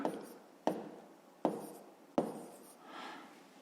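A pen scratches out a fifth-grade math solution on paper, with four sharp taps or strokes spaced evenly and each fading into a brief rub, then a softer scribble at the end, close and alone.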